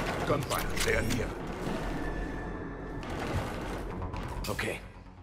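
Bursts of rapid gunfire and clattering action sounds fill a busy Mass Effect 3 Legendary Edition battle, fairly loud with no clear pauses.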